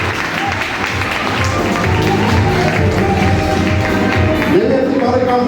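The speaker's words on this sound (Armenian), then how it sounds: "Աշխարհի ամենաբարձր ու ջերմ ծափերը Չախալյանների" Steady, dense applause fills a hall at a family baptism celebration, a continuous wash of clapping from a large gathering with voices mixed underneath.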